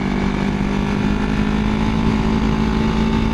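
A 1981 Yamaha XS400 Heritage motorcycle engine runs rich on a ride, a continuous muddled drone with a rough, pulsing low end and faint popping texture, loud and steady throughout with no talk.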